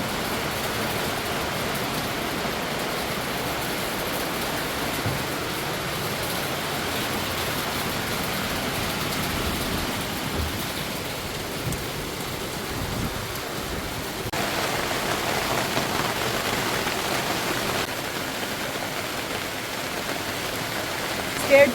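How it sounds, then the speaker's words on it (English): Heavy rain pours outside a garden greenhouse during a dark, cold late-spring thunderstorm, making a dense, steady hiss that fills the whole stretch without a break. "Oh my god, it's raining so hard."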